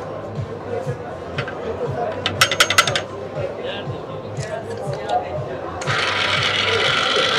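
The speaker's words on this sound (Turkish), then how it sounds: "Makine şu an yağlama yapıyor." An oil lubrication test machine runs with a steady mechanical whir and rhythmic clicking. A burst of sharp ticks cuts through partway, and a louder hiss joins near the end. Speech is faintly present underneath.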